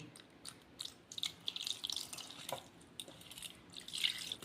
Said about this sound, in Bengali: এবার আমি একটু ঠান্ডা জল দিয়ে ছানাটা ভালো করে ধুয়ে নিচ্ছি।